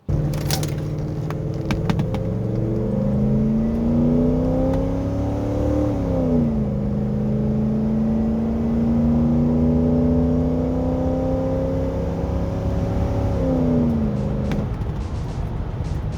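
A 1994 Ford Econoline van with a 5.8 V8 accelerating hard from standstill toward 100 km/h, its loud, close engine drone climbing in pitch through each gear, dipping briefly at the shifts, with no talking.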